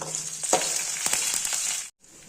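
Onion, green chili and curry leaves sizzle and fry in hot oil in a pan, a steady close hiss with a few sharp crackles, cutting off abruptly near the end before a fainter sizzle resumes.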